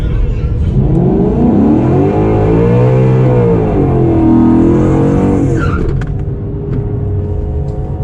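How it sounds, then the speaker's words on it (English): Drag racing car at an NMRA True Street event doing a clean burnout, its engine loud and close, revving and swooping in pitch over a tire-squealing roar before easing off to an idle. "I just got a clean burnout."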